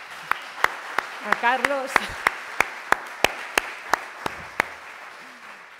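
One person claps sharply and evenly, about a dozen claps spaced roughly half a second apart, while a voice speaks briefly near the start and sparse audience clapping joins in faintly.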